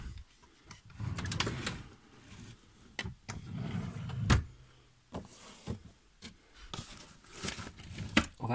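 A drawer full of vintage Action Man toys is pulled open, giving a series of sliding scrapes, knocks and rattles of plastic figures and packaging, close by with no talk.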